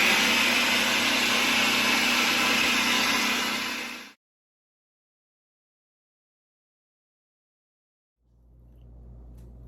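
Food processor blending peanuts into peanut butter, a loud, dense whirring roar that runs steadily, cuts off abruptly into silence, then starts up again at the end.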